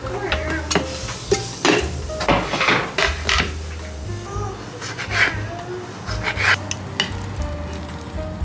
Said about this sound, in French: Maman, elle va couper des tomates.